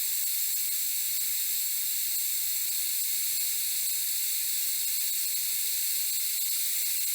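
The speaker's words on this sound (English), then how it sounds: "open the wrench, and now the fluid starts sucking" A brake line on a 1969 Dodge Super Bee has its fluid drawn out during brake bleeding after a master cylinder replacement, producing a steady, continuous airy hiss that holds unchanged throughout with nothing else heard.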